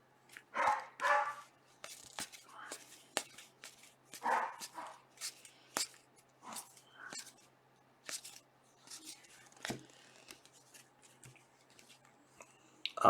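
Several dogs barking indoors in sharp intermittent bursts, nearby and moderately loud, with scattered shuffling and clicking sounds between barks.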